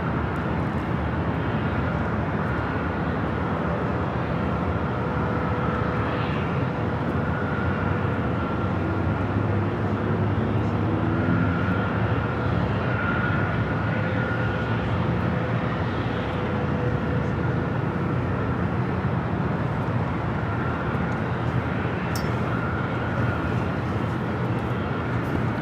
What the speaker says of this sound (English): Asiana Cargo Queen, now on taxiway Bravo